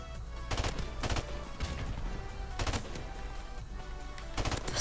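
Rapid bursts of gunfire from an overpowered weapon in a first-person shooter game, several sharp clusters of shots repeating every second or so against loud background battle noise.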